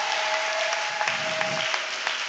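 A church congregation applauds to acclaim Jesus during a sermon, a steady wash of many hands clapping together with a few sharper claps standing out.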